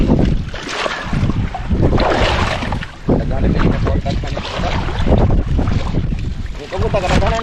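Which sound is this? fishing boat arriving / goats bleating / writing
fishing boat arriving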